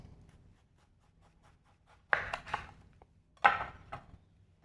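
Knife slicing through an heirloom tomato on a cutting board, two distinct clustered cutting strokes with faint taps in between, close and fairly quiet.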